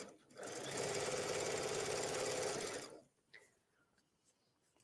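A sewing machine stitches elastic into a waistband, its fast steady run lasting a couple of seconds, loud and close, then stopping into quieter handling noise.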